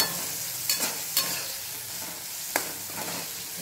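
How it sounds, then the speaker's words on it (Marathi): Lemon pieces and chillies sauté in a pan under a steady sizzle, with a few sharp stirring scrapes spaced irregularly, close and moderately loud. "आता उरलेलं लिंबू हे यामध्ये घालून घ्यायचं आहे आणि व्यवस्थित असं परतून घ्यायचं आहे"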